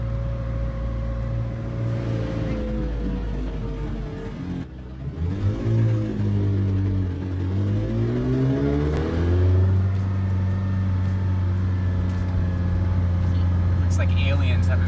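McLaren Senna sports car driving on a sunny day in Sarasota, its engine droning steadily and then revving up through rising and falling pitch sweeps, heard from inside the cabin with people talking over it.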